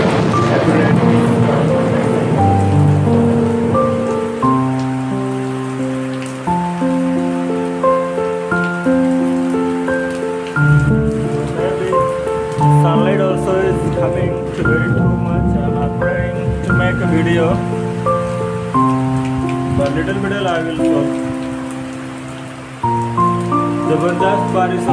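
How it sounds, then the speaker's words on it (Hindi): Heavy rain pours on a village, a continuous patter on surfaces lasting throughout, heard beneath loud melodic music with voice-like tones on top. "जबरदस्त बारिश हो रहा है हम लोग के तरफ"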